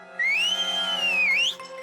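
A cartoon character's voice imitates a pressure cooker, letting out one loud, sustained whistle that rises, wavers and climbs again before cutting off.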